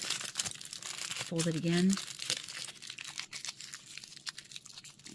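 A big piece of aluminium foil is folded and crumpled to shape miniature logs, giving a close, crackly crinkling and rustling that runs under a person speaking.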